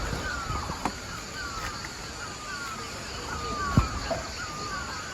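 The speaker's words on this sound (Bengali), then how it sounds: "পাখির আওয়াজও পাচ্ছি" Scattered bird chirps and short calls ring out at a moderate distance in Mawlynnong village, Meghalaya, India, over a steady outdoor hiss, with a couple of soft thumps.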